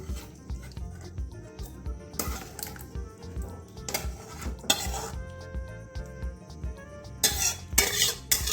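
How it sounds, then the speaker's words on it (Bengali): Egg curry being transferred into a serving bowl, with close metallic clinks and scrapes of a spoon against pots and dishes, scattered bursts of scraping amid low rumbling handling noise. "এবারে একটা পাত্রের মধ্যে ঢেলে নেব"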